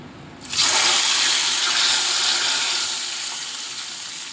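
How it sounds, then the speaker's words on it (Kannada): A sudden loud sizzle bursts in as hot chilli tempering hits a pineapple gojju, a bright crackling hiss that holds steady and slowly fades without any talking. "ಇವಾಗ ಇದು ರೆಡಿ ಆಯಿತು ಒಂದು ಒಗ್ಗರಣೆ ಕೊಡ್ತೀನಿ"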